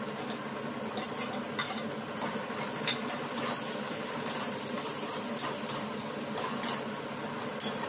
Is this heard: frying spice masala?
yes